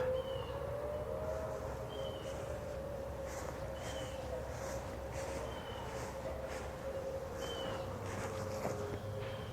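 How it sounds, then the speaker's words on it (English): A distant civil defense siren test wails in a long, steady tone, faint and far off, with birds chirping intermittently nearby in a garden in November. "time to test the sirens"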